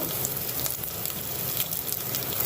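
Curry leaves and chillies sizzle in hot oil for a Maharashtrian bhadang tempering, a steady dense crackling frying hiss close by with no talk.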